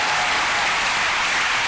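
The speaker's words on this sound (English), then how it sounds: "Clap now, I dare you." Audience clapping at a church talk on relationships, a dense, even burst of many hands applauding together, loud and steady throughout with no voices over it.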